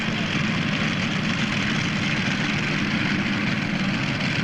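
A modified tractor engine roars continuously at a tractor pull, a dense, steady, loud drone with no break.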